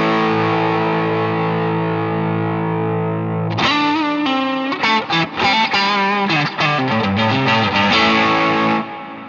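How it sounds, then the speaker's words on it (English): Guitar through the hall setting of an IK Multimedia X-Space reverb pedal: a long sustained chord rings out, then a busy run of picked notes follows, each washed in a wide, lingering tail, loud and alone. "Hall reverb, always fun."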